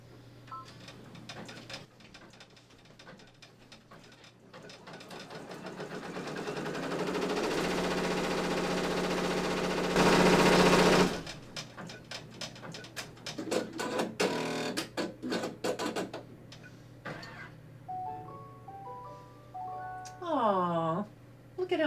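Embroidery machine stitching at about 1,000 stitches a minute. Rapid, repetitive mechanical chatter grows louder, then stops, followed by a short run of electronic beeps.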